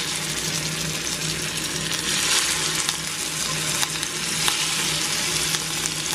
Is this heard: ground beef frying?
yes